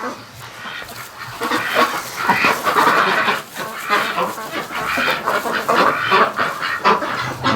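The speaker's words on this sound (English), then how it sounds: "There's a bunch of ducks in there." Wintering ducks crowded in a farm shed, a Muscovy among them, keep up a dense, loud chorus of overlapping quacks and honks that runs without pause.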